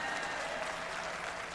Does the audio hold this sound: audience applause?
yes